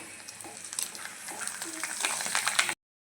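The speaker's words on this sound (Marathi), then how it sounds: "त्यानंतर तेलामध्ये मी बघा पापड्या तळत आहे" Papad frying in hot oil in a home kitchen: a steady, close sizzle and crackle that grows slightly louder and busier before cutting off abruptly.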